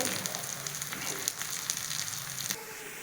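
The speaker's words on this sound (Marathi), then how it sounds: "कांदाला छान आपण घेऊयात परतून छान असा सोनेरी रंग येईपर्यंत" Onion fries in a pan until golden for a pigeon pea chutney, giving a steady close sizzle with light crackles that stops abruptly near the end.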